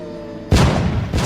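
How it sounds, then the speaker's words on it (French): Cannon shots boom in a cartoon Hunger Games parody, two sudden loud deep blasts in quick succession, the first ringing out for about half a second before the second hits. "7 coups de canon retentissent"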